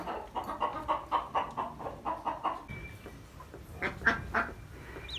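Several broody hens sitting on their nests give a run of close, steady clucks and murmurs, followed by a few louder, sharper calls near the end.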